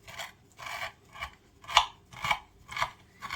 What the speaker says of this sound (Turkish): Artık şimdi keseceğim.